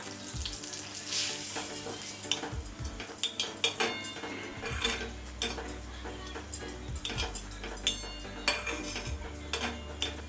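Spoon scraping and stirring coconut filling for dark chocolate modak in a pan over low flame, with steady sizzling and repeated metallic clinks and scrapes throughout, no talking.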